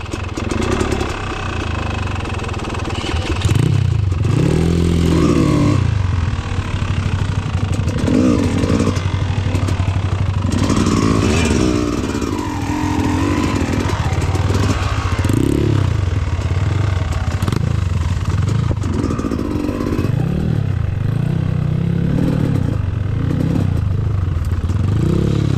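A motorcycle engine on an off-road trail ride revving up and down repeatedly at close range, rising and falling in pitch with rattling clatter over a steady low drone.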